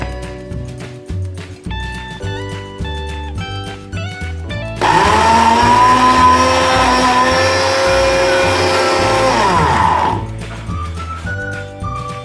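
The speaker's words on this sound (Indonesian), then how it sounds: "Ini sudah siap kita blender ya" A blender whirs loudly and steadily for about five seconds over background music, then cuts off.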